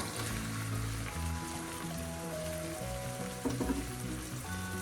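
Spice powders fry in hot oil beside onions, giving a low, steady sizzle under a mix of background hum and tonal household noise, with a brief clatter near the end and no talk.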